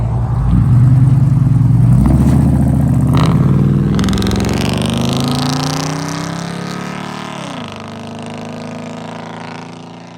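The engine of a restored 1971 Chevrolet Cheyenne Super K20 truck roars loud and close, revving up in a long rising pull before dropping back toward idle, with no voices.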